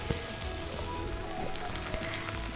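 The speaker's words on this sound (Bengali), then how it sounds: "কড়াইতে একটু পেঁয়াজ একটু টমেটো আর ক্যাপসিকাম কেটে ভেজে আমি আবার একটু গাজরও দিয়েছি" Onion, tomato, capsicum and carrot fry in a wok with a steady, close sizzle and a few faint stirring clicks, no voices.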